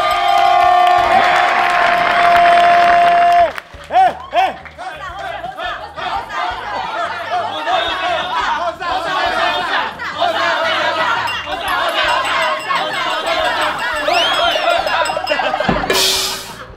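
A crowd at a birthday party claps and cheers loudly, a dense mix of shouts, chatter and clinking that swells after a brief pause, with voices and laughter running through it.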